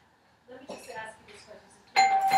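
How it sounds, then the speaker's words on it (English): A doorbell rings once near the end, sharp and fairly close, after a short stretch of voices talking indoors. "I'm gonna go outside the back door and I'm gonna ring the doorbell"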